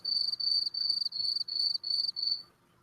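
A cricket chirps in a rapid, regular series of about seven bright trilled bursts, loud and close, then stops.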